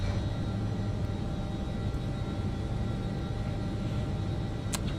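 Outside a Lockheed L1011 TriStar airliner in Microsoft Flight Simulator 2024, set for takeoff with flaps at 10, a steady, even engine rumble and hiss drones continuously with no speech.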